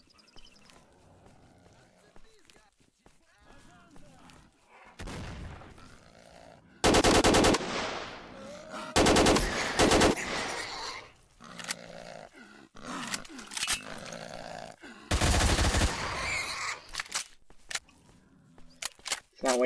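An AK rifle fires in bursts in the game S.T.A.L.K.E.R.: Shadow of Chernobyl, with three loud blasts of rapid automatic fire standing out between quieter game noise and someone talking.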